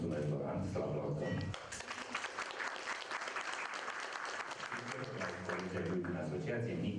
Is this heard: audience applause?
yes